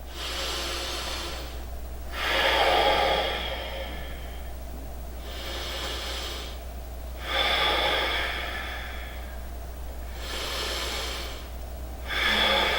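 Slow, deep yogic breaths during an advanced vinyasa flow forward fold: about four long airy inhale-exhale cycles, close and steady, each swelling into a louder hissing rush before easing off, with no talking.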